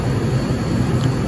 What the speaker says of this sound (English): The number is dropping because the compressor just turned on.